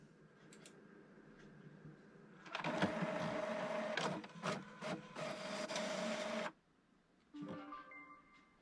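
A home printer runs through a bottle-label print job: a quiet whir, then about four seconds of loud mechanical feeding and rasping with rhythmic clicks, a sudden stop, and a short final whir.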